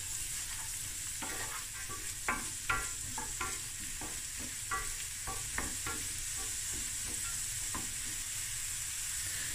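Onion, green pepper and carrot sizzle steadily in a hot pan for a tuna spaghetti, with occasional clacks as they are stirred.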